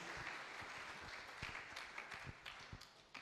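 A church congregation applauding: dense, continuous clapping from many hands, fairly close and steady for a few seconds, with individual sharp claps standing out over the wash.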